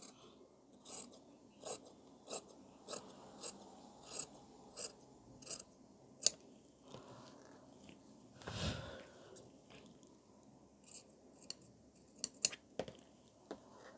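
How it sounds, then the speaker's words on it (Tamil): Scissors cut blouse cloth along a marked line at a tailoring table, making a steady series of short, crisp snips roughly every half second, close and fairly quiet, with one louder rustle of fabric midway. "இப்போது அந்த மார்க்லேயே வந்து கரெக்டாக கட் பண்ணிடலாம்."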